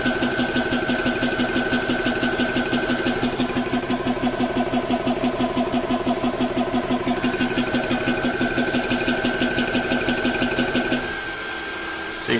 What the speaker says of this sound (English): So now it's actually filling the gun.